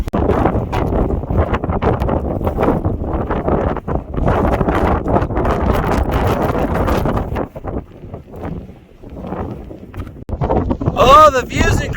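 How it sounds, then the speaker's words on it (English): Strong gusting wind above 35 mph buffets the microphone on an exposed Mt. Rose hiking trail, a loud continuous roar that eases briefly in the later seconds before surging again. "But man, that wind."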